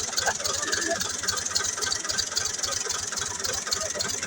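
A tractor engine idles with a steady, even chugging close by, a continuous low rumble with light rattle and no pauses.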